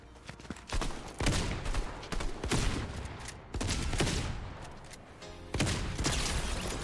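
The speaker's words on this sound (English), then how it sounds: "Headshot with a freaking shotgun." Fortnite shotgun blasts during a PC match: several loud, sharp shots are spaced a second or so apart, each cracking out against steady game noise.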